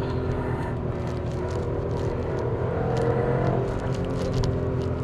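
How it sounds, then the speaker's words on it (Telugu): A Skoda Kylaq's 1.0-litre three-cylinder turbo petrol engine with manual gearbox revs under load, giving a loud, steady, dense drone that swells slightly midway with no voices. "3 సిలిండర్ టర్బో పెట్రోల్లో ఉన్న మేజర్ 6000 RPM వరకు రెవ్ అవుతుందండి."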